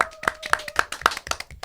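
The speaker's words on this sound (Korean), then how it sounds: "박수." A small studio audience on a talk show claps in a quick run of sharp, separate hand claps, close and crisp, about six distinct slaps over under two seconds.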